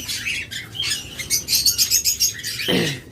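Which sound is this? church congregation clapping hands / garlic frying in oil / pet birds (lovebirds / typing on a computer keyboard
pet birds (lovebirds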